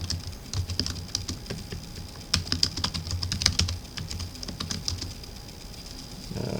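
Someone types on a computer keyboard in uneven bursts of close, crisp key clicks with short pauses between them, and no one speaks.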